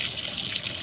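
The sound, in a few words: Sharp 7kg washing machine filling with water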